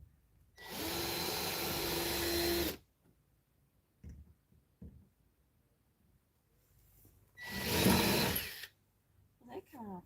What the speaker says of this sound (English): I might have to drill a decent hole